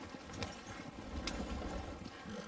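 Hooves clip-clop steadily from a horse in the Red Dead video game, a quiet, continuous trotting rhythm with soft game ambience underneath.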